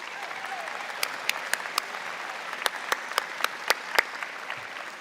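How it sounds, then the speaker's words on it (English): Applause at a spring convocation ceremony honoring the graduates' supporters: a large, fairly distant crowd claps steadily, with a few sharper nearby claps punctuating the sound. "May I ask you to give a round of applause to all those people who helped get you here today."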